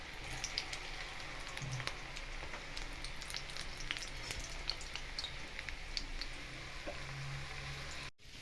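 Potato French fries deep-fry in oil with a soft, even bubbling crackle and scattered pops that hold steady throughout before cutting off abruptly, with no voices.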